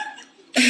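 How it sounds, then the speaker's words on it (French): A single short, loud cough bursts out near the end after a moment of quiet room sound. "Pourquoi tu tousses?"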